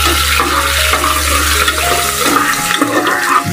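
Sliced onion and bay leaf fry in hot oil on a cumin tempering while being stirred, a loud steady sizzle with scraping stir sounds throughout.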